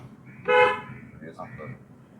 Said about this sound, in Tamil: ஹார்ன் அடிக்கலாம்